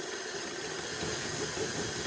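An electric mixer beats carrot cake cookie dough on speed 3 or 4, a steady, faint whirring hiss that holds even for the whole moment, with no speech.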